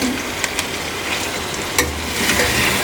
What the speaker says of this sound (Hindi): अब चनों को भूनना है।